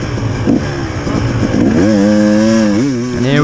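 A motocross bike pulls away onto the Hawkstone Park track, its engine revving loudly and climbing in pitch through several gear changes, close and continuous with no talk over it.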